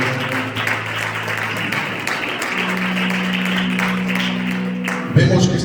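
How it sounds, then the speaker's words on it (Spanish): Congregation applause after a scripture reading at a church service, moderate clapping mixed with sustained organ-like tones and some murmur, ending with a sharper burst near the close. "Damos un aplauso a la palabra del Señor."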